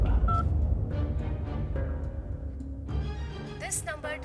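A few short electronic dialing tones of a phone number being dialed beep over a busy background of voices and music.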